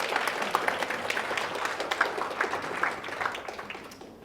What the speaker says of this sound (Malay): Bagi tepukan kepada diri sendiri tuan-puan.